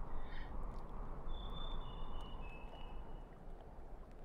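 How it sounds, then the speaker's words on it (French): A Merula Alba bird sings in Syberia II, a few thin drawn-out whistled notes rising over a steady wash of ambient noise, faint and somewhat distant. "C'est le chant du Merula Alba."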